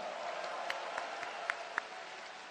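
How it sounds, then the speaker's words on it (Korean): Applause at a Korean Democratic Party candidates' joint rally, a steady wash of crowd clapping with a few sharper individual claps standing out, moderately distant and moderately quiet. "우리 김경수 후보님께도 뜨거운 박수 부탁드립니다"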